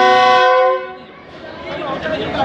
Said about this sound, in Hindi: डिपार्चर विसल हो गया रावलपिंडी से।